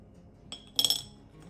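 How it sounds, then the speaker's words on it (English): Ice cubes clink and tumble into a bowl as sprouts are prepared in ice water, a short bright burst of glassy knocks, close and fairly quiet, with a softer tap just before. "So we're gonna add some ice cubes and some water first. Get some ice."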